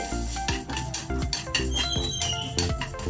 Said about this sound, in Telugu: రెండు స్పూన్లు ఆవాలు వేద్దామండి ఇవి దోరగా ఫ్రై చేసుకోవాలి